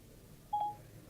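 A short electronic dialing beep plays once through the CarPlay system in a Ferrari FF as an iPhone call starts, a clean single tone standing out briefly over a quiet cabin hush.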